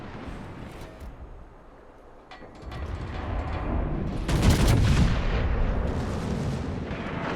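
Warship secondary guns fire in a naval battle video game, a rolling barrage of booming reports that thickens midway into dense, overlapping blasts, loud and close.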